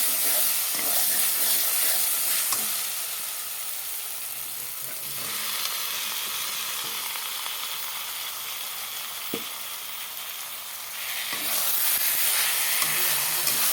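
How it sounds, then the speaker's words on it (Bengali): Chopped tomatoes hit a pan of frying spice paste while cooking a Bengali rohu fish curry, giving a steady, close, loud sizzle and hiss that eases midway and swells again near the end, with no voices. "দেখো মশলাটা কষানো হয়ে গেল এখন টমেটোগুলোকে ঢেলে দেবো"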